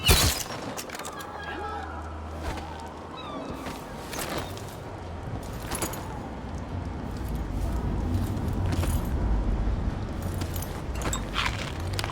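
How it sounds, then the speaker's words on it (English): Gunfire in Dishonored 2 in the Clockwork Mansion, with sharp shots and bursts scattered over a busy, rumbling game soundscape that builds louder toward the end. Voices talk throughout. "Someone's shooting at us!"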